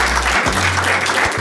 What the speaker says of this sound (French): On peut applaudir pour eux,